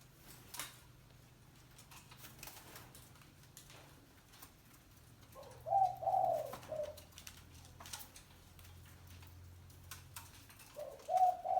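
Spotted dove cooing, two short soft phrases of low hollow notes separated by a pause, set against quiet background ambience with faint ticking clicks.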